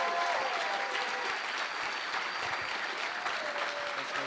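An audience at a hackathon closing ceremony claps steadily and densely as the team comes on stage, the applause sustained and fairly loud throughout with no talk over it.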